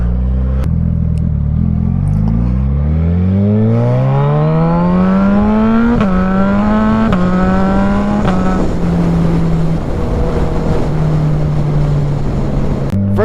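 A Suzuki Hayabusa Gen 3 motorcycle pulls away loud and close, its engine note climbing steadily through the revs, then dropping briefly at each gear change before settling into a sustained cruising drone.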